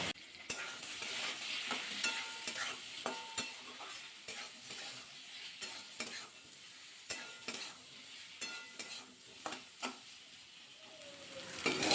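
Taro and soybean fry in a pan with salt and a little turmeric, a steady sizzle running throughout while a utensil scrapes and knocks against the pan in repeated stirring strokes, close up with no talking.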